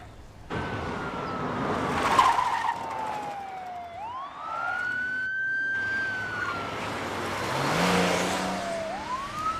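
A police siren wails and sweeps up and down through a car pursuit, loud and close, over the steady roar of a speeding car's engine.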